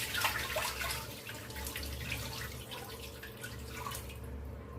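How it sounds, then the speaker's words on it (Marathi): Dirty, muddy water is poured off freshly washed fenugreek leaves in a home kitchen, a faint, steady trickle with soft splashy drips throughout. "मी तुम्हाला पाणी काढून दाखवते"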